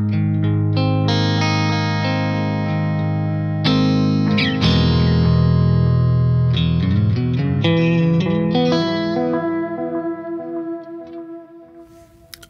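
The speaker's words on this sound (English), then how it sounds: "Let's start by just hearing how the delay sounds." An electric guitar plays sustained chords and single notes through a Jam Pedals Delay Llama Xtreme analog delay, with repeats trailing each phrase and a fading echo tail at the end.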